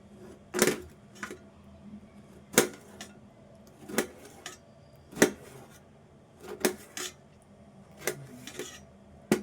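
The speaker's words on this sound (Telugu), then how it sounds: "ఇది ముక్కలు చేస్తాను ఇట్లే ముక్కలు చేసుకుంటే అయిపోద్ది" A knife chops a bottle gourd into pieces on a cutting board, about a dozen crisp knocks at an uneven pace, close by in a quiet kitchen.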